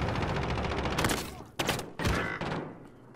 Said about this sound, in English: I'm shooting at the guy across the building.